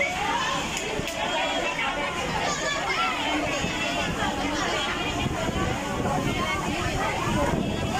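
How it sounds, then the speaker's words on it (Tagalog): Strong storm wind during rain buffets the microphone with a constant roaring rush, while voices chatter faintly in the background. "Grabe, malakas ang hangin."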